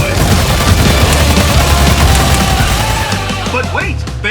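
Sustained gunfire and explosions from the Battleborn game, a dense loud barrage of rapid shots and booms that rolls on without a break.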